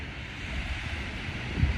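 Atlantic Ocean waves wash steadily onto the beach at Virginia Beach, a continuous soft roar of surf with wind noise and no talking.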